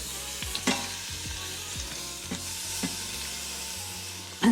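Beef searing in an Instant Pot for pot roast, a steady close sizzle running throughout with a few light clinks and stirring sounds.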